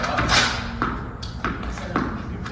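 A ball striking the ground in adult training, giving several dull thuds spaced about half a second apart, close by, with a voice speaking French over them.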